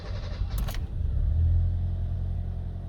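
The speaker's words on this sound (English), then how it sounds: "I am just going to crank the car and see if we get our signal back" Hyundai i20 with a stalling fault, its engine cranking and catching, with a brief metallic rattle early on, then a steady low idle rumble close by.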